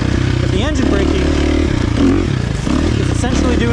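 A 2023 KTM 350 XC-F motorcycle engine runs loud and close while riding, a steady droning note with shifts in pitch, as a rider talks over it.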